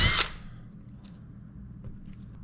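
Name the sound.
power drill drilling into vintage camper wall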